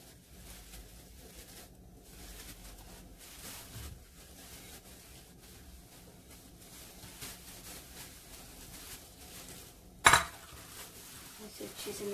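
Spoon scraping and stirring chicken in a bowl with lemon juice, ginger-garlic paste and spices, soft clinks and scrapes under faint room noise, with one sharper knock near the end.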